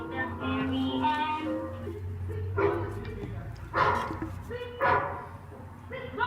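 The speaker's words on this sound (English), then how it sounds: "So behind the scenes, a dog performance sounds like this." A trained dog barking during a film shoot, giving a few sharp barks spaced through the scene while a handler keeps talking commands close by.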